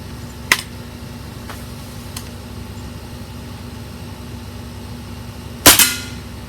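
A Diana RWS 48 .22 air rifle fires once, a sharp, loud crack near the end that decays quickly. Two or three faint ticks come earlier over a quiet hum, and no one speaks.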